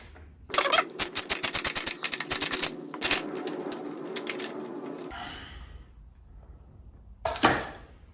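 Bolts being removed from a bracket on a Yamaha R1 motorcycle: a run of rapid, evenly spaced ratcheting clicks close by, loud and continuous for several seconds, then a softer rustle and a brief scrape at the end.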